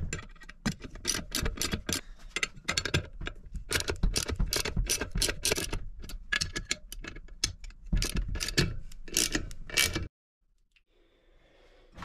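Rapid clicking and ratcheting while nuts are tightened on a homemade unicycle, dense sharp ticks close up for about ten seconds, then near silence with a faint distant sound.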